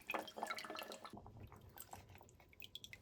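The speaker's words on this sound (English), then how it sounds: "Firstly, wash them in the water to remove the sand." Dried shiitake mushrooms from Oita Prefecture are rinsed in water to remove sand, giving soft, faint splashes and drips that stay close and quiet throughout, with no voices.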